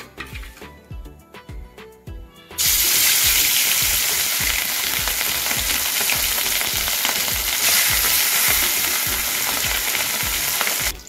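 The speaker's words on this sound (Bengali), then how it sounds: "তো এবারে আমি এই একই তেলে মাছগুলোকেও ভেজে নেব।" Marinated rui fish pieces go into hot oil. A couple of seconds of light clattering give way to a sudden loud, dense sizzle that stays strong and continuous to the end.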